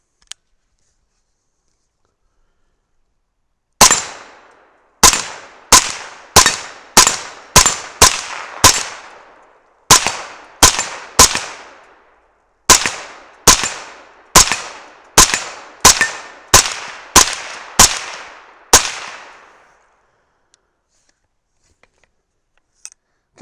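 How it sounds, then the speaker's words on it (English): A 300 Blackout rifle fires powder-coated bullets at steel targets outdoors, about twenty loud sharp shots in two rapid strings with short pauses, each crack followed by a brief ringing tail and then silence. "So let's go ahead and just shoot some steel."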